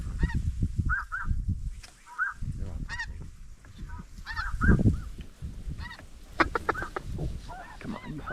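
Snow geese in a large flock call over fields in Saskatchewan, giving repeated overlapping honks, some near and others farther off, over low rumbling handling noise and wind.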